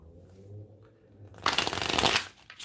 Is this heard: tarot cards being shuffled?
yes